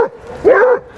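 A basset hound gives a single loud, drawn-out bark or bay at close range on an outdoor group walk, with a few softer yips and noise around it.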